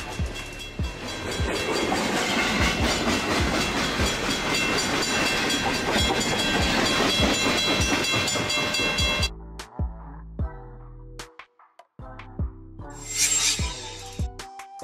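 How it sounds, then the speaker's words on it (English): A freight train rumbles past with loud rhythmic clattering of wheels, then cuts to quieter clanks, a hiss and a short whistle-like tone. "Freight train. Freight train."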